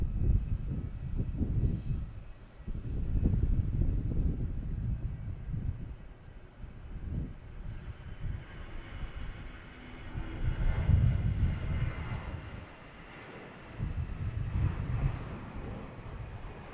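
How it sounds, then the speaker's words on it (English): An American Airlines airliner takes off from Boston Logan, heard as a distant, swelling and fading low roar over roughly seventeen seconds, with wind-like rumble and no voices. "taking off, we have American Airlines heading to Philadelphia"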